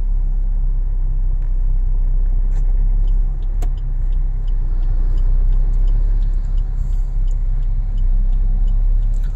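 A steady, loud engine drone and road rumble from inside a car moving in second gear during a driving lesson, continuous and close throughout.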